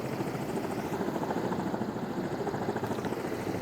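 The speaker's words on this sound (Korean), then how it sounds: "환자 이송 준비가 끝나자 헬기가 다시 좁은 공간으로 내려왔는데요." A rescue helicopter lowers itself into a narrow gap on a rocky mountain ridge, its rotor a loud, steady, close chop that holds without a break.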